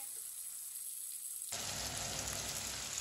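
Tomatoes frying in a pan start as a quiet hiss, then burst into a loud, dense, steady sizzle halfway through that stays constant to the end, no voices.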